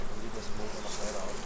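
Honeybees buzz steadily at hives on an open-air bee stand in the Rhön hills of eastern Hesse, a continuous droning hum with no clear gaps, at moderate distance and fairly even loudness.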